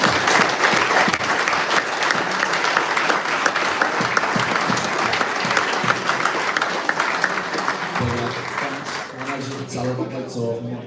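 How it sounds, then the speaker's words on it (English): Sustained audience applause for volunteers at a live fans forum, dense and steady for most of the stretch, then thinning as voices and a lower murmur come through near the end. "I think they need a round of applause."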